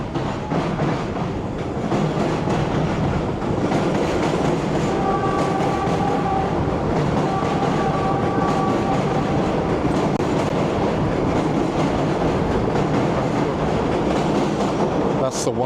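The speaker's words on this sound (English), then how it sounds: "That's the one train, which normally is the train that I would take back up to 242nd, Van Cortlandt Park." A New York subway 1 train rumbles past on the line toward 242nd Street–Van Cortlandt Park in upper Manhattan, loud and close, with a continuous roar, rail clatter and a brief tonal squeal or horn partway through.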